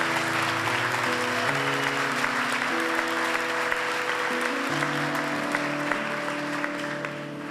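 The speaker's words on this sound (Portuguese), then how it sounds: "aplauda o Senhor" A congregation applauds during worship, steady clapping over sustained keyboard or organ chords that shift beneath it, the clapping continuing evenly before easing slightly at the close.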